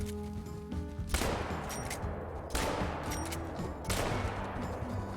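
Shotgun blasts from a 10-gauge in the hunting game Call of the Wild, fired at a piebald European bison bull: three loud, booming broadband shots about 1.3 seconds apart, each trailing off under steady outdoor ambience.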